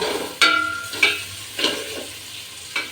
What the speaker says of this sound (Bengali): গোটা জিরা দিয়ে দিচ্ছে তেলের মধ্যে